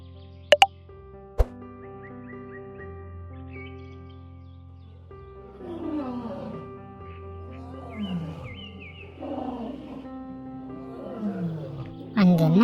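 A cartoon elephant that has fallen into a pit trumpets and roars in repeated, drawn-out cries after a couple of sharp plops, with a steady background tone underneath and no talking.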